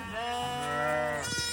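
A bottle-fed lamb bleating close by, a single sustained, wavering cry that rises and breaks off near the end, loud and clear with no other sounds.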